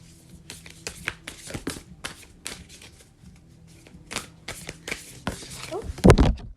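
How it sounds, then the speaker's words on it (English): Tarot oracle cards shuffled by hand in a string of quick riffling and tapping bursts, up close, ending in a louder flurry as a card flies out. "I'm just shuffling it just one more time, and then I'll just start pulling a card."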